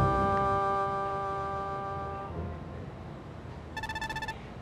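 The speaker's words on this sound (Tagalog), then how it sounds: "Oh, may nagraring ah." A telephone rings in a domestic TV-comedy scene: a sustained electronic ringtone fades out, then a short burst of rapid repeated beeping rings follows, with no talk over it.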